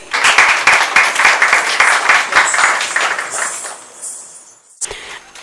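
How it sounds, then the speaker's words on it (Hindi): Audience applause for three performers at a youth music concert in Varanasi, dense steady clapping that fades out over several seconds, followed by a brief clink near the end. "सभी कलाकार खुशबू, कोमल और शिखा के लिए एक बार जोरदार तालियां बजा दें"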